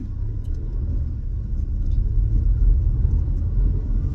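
Steady low road rumble inside a moving car, continuous engine and tire drone that swells slightly louder partway through, with no talking.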